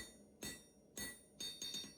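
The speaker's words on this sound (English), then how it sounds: "And then laying it on the flat side and hammering that way to keep the thickness as even as I can throughout." Hammer blows on metal while forging a belt hook, four ringing strikes, the last two closer together, each with a bright metallic decay.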